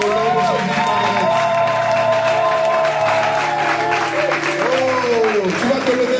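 A church congregation applauds and cheers loudly and steadily, the clapping blended with sustained voices and music running underneath the whole time.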